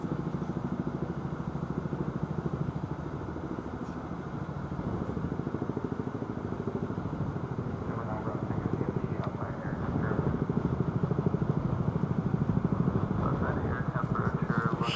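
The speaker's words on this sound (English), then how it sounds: "there's no other sound, is there, than a Chinook" A Chinook helicopter flies past near Paine Field in Everett, its rapid, pulsing rotor thump steady and fairly loud, swelling slightly toward the end.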